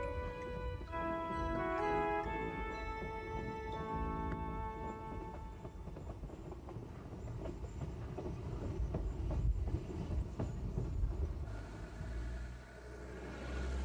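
A Mount Rainier Scenic Railroad train at Elbe passes, rumbling and clattering steadily, with a brief horn-like tonal blast early on, then continuous rolling noise fading slightly at the end.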